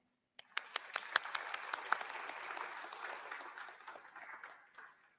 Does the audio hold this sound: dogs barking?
no